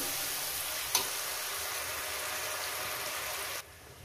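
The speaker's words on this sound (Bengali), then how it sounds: "মশলাটাকে দেওয়ার পর আমি এটাকে 2 মিনিট 3 মিনিট আমি মিডিয়াম গ্যাসে এটাকে কষিয়ে নেব।" Spice paste for rohu fish curry frying on a medium gas flame, giving a steady close hiss with one brief knock near the start before the sound drops away at the end.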